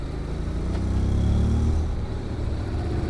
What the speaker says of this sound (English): Now give you a good sound of the muffler then.